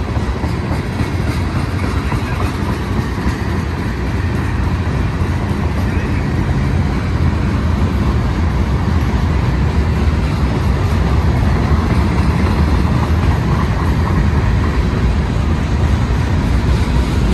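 A BNSF manifest freight train with coil cars, scrap metal gondolas, tank cars, tabletops, center beam lumber cars and hoppers rumbles past close by, a loud continuous roar of rolling wagons that stays steady for the whole stretch.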